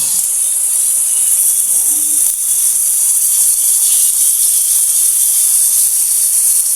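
Loud, steady sizzling hiss of pork steak frying in a pan, continuous and close throughout with no talking.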